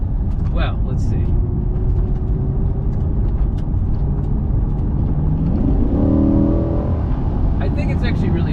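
A Corvette C8 with an 8-speed dual clutch transmission accelerates, its engine droning steadily before rising through a quick shift into a higher rev climb, with someone talking over it.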